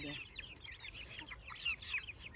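A small flock of hens and one rooster cluck and murmur close by in a garden, their short, choppy calls overlapping continuously at a moderate level.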